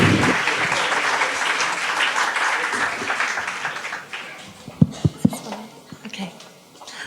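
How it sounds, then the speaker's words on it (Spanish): A crowd applauds loudly, the clapping gradually fading into a few scattered claps near the end. "Un fuerte aplauso, por favor."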